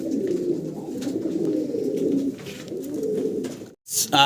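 Pigeons in a breeder's loft coo in a low, steady, rolling murmur close by, continuing for several seconds before a brief pause and a sudden louder noise at the end.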